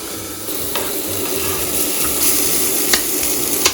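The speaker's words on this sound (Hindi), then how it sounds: "एंड हम अपने वेजिटेबल्स को टोस्ट करेंगे।" Chopped vegetables sizzle in hot oil in a pan, a steady crackle broken by a few scraping clicks of stirring.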